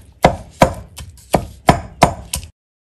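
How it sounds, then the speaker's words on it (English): A knife chopping shrimp on a cutting board, heard as six sharp, evenly spaced chops close up, each a crisp knock with a short tail, and nothing else in the background. "with this shrimp right here, you can just use the knife and the cutting board"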